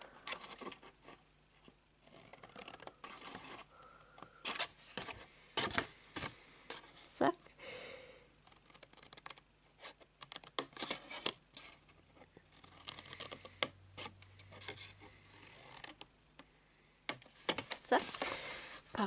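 Scissors bevel-cutting the glue tabs of a paper pop-up message box, a series of close, soft snips and paper rustles scattered over quiet background, with a person talking between the cuts.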